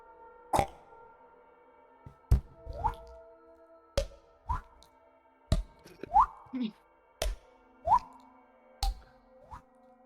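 A voice imitates a dripping faucet, making a series of wet plopping pops with rising pitched blips, roughly evenly spaced and close, about eight drips in a row.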